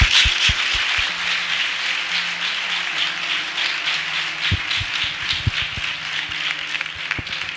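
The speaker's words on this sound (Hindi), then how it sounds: "आइए हम अपने प्रभु के लिए एक अच्छी ताली बजाएंगे।" A church audience claps for the Lord: steady rhythmic applause with sharp individual claps, moderately loud and continuing throughout, with a faint voice underneath.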